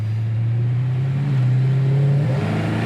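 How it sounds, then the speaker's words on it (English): A 1970 Dodge Coronet Super Bee pulls hard under acceleration, a loud steady V8 drone climbing in pitch, then a gear change near the end as the engine note drops and picks up again. "Man, good power, second gear chirp."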